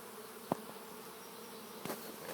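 A swarm of honeybees being captured hums in a faint, continuous drone close by, with a couple of soft bumps over it.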